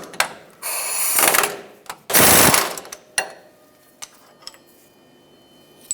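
Wrench work on the 19mm steering rack nut and bolt of a 1996-2002 Toyota 4Runner front end, heard as loud bursts of rapid ratcheting with a metallic clack and a few scattered taps, no talking.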